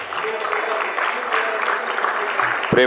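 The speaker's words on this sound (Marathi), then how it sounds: "जोरदार टाळ्या वाजूया त्यांच्यासाठी" An audience at a felicitation ceremony for a film festival director claps steadily, a dense, even wash of applause from many hands that lasts throughout.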